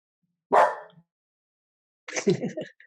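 A dog barks twice close by, one sharp bark followed after a pause by a longer, rougher burst of barking, with no other sound between.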